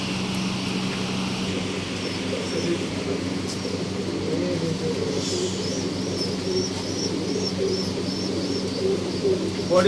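Female pigeons kept for sale in Bangalore coo repeatedly, soft rolling calls recurring through the clip over a steady low background hum, fairly close.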